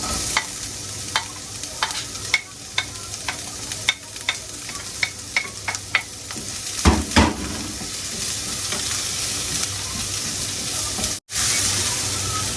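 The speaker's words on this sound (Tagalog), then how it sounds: "Gisa tayo, gisa ng bangus. Tapos lunod natin yung sibuyas." Milkfish and onions sautéing in a pan, a continuous sizzle broken by a run of sharp, regular spatula clacks against the metal, followed by a louder burst of stirring near the end.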